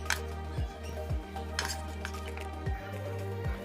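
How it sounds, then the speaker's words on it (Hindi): A spoon stirring spiced chicken filling with garam masala in a bowl, a handful of quiet metallic clinks and scrapes in an uneven rhythm, close by. "थोड़ा सा इसमें गरम मसाला भी डाल लेंगे और अब इनको अच्छे से मिक्स कर लेंगे"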